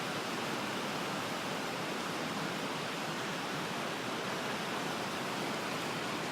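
Storm surf surges onto the shore at Tofino in a steady, dense roar of churning water that fills the whole stretch without a break.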